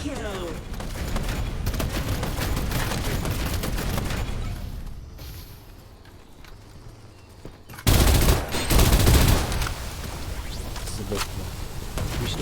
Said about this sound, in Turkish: Biri daha sıkıyor.